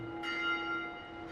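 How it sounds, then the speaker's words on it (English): A bell tolls in the video game Dark Souls 2, a single ringing strike with a long sustained metallic hum that decays slowly, heard clearly with no talk over it. "Bell rings again somehow."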